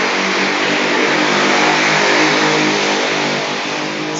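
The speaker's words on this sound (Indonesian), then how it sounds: "Ada motor lewat nggak apa-apa kan?" A motorcycle passes close by outside, its engine a loud, steady revving drone that swells slightly and fades across the few seconds, heard alone with no talking.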